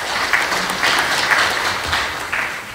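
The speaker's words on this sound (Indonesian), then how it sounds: "kita berikan tepuk tangan buat Pak Azmun" Brief clapping from an audience at a public consultation forum in Pelalawan Regency, a short dense patter that holds evenly for a few seconds.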